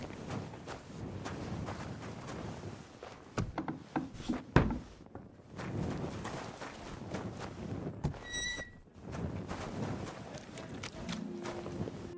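Horse neighing and hooves in Kingdom Come: Deliverance II, with hooves clopping steadily throughout and a short whinny about two-thirds of the way in, set against ambient game sound.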